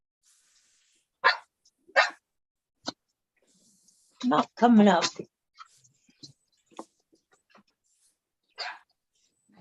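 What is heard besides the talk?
dog barking during a Zoom meeting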